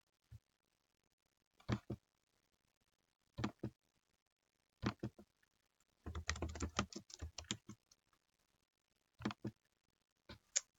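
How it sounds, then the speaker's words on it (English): Typing on a computer keyboard comes in short, sparse clusters of sharp clicks with one longer flurry of rapid keystrokes in the middle, close and clear in an otherwise quiet room. "I'm just going to type on this and call this slide"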